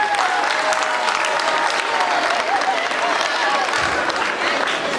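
Audience at a peace ambassadors' school ceremony applauding, a dense, steady burst of clapping from a sizeable crowd that fills the whole stretch, with voices mixed faintly underneath.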